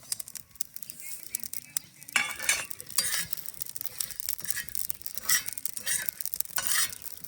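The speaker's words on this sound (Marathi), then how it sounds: "थंडा मसाला भुजून घेतो, थंडा गरम." Spice masala with poppy seeds roasts in oil while being stirred, close scraping and clinking strokes in uneven bursts over a soft sizzle, with louder scrapes coming every second or so.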